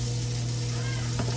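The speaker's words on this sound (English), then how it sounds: "So these burgers cook 5 minutes on each side." Burger patties cook in a pan on a stovetop, producing a soft, steady sizzle under a constant low kitchen hum, with one brief louder sputter near the end.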